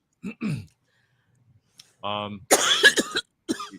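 A couple of short, sharp coughs near the start, then a brief throat sound, followed by a person talking close by.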